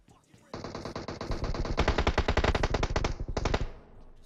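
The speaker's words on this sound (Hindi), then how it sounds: "अब देखो गोलियां चल रही हैं, फाइट हो रही है यार" Rapid bursts of automatic gunfire in PUBG Mobile rattle loudly in quick rhythmic volleys, with a short pause before a final burst.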